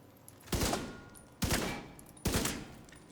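Video game gunfire aimed at elite enemies comes as three separate loud bursts roughly a second apart, each a sharp crack that fades out slowly, close and with no talk.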